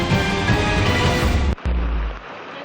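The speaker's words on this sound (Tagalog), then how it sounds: "Humahagupit ang hangin at bumubuhos ang malakas na ulan" Heavy rain pours and strong wind roars over floodwater during a Red Cross rescue of people trapped in a flooded house in Rizal, a dense, loud continuous wash with a brief dropout near the end and a low rumble beneath.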